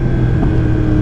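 A Yamaha R1 sport motorcycle engine burbles low and loud during a downshift, a brief rough, steady rumble up close.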